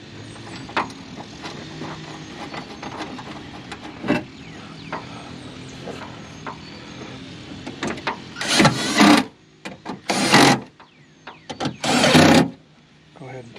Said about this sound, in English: Get the bolt started there.